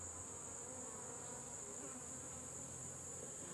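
Honeybees drone steadily around an open Layens hive during requeening, a dense, continuous buzz of many insects close by, with no talking over it.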